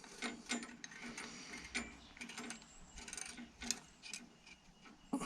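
A throttle assembly is unscrewed from a vintage Ransomes Marquis mower, giving quiet, close ratcheting clicks and small metallic mechanism sounds in an irregular run with no talking.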